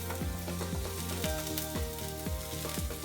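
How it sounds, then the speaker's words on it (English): About half a diced carrot sautés in a pan, giving a steady soft sizzle under rhythmic stirring scrapes and taps, quiet and close with no talk. "And we're gonna add in about half of a carrot. And let this saute for a couple of minutes."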